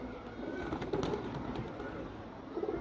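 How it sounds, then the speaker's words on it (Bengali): Jira gola pigeons coo softly in a low murmuring drone, several birds together, close by and steady throughout, with no voices. "একজোড়া জিরা গলা কবুতর আছে অনেক সুন্দর জোস কবুতর এগুলো"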